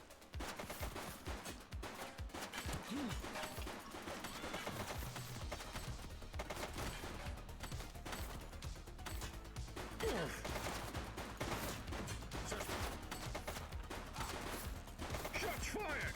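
Gunfire from the police game The Precinct, with sustained volleys of shots crackling through the whole stretch alongside bursts of automatic fire, dense and loud with game effects mixed underneath.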